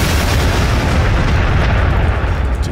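Artillery support strike in the Warhammer 40,000 Sanctus Reach strategy game: a continuous heavy rumble of booming impacts and blasts, loud and unbroken for a couple of seconds, with no voices.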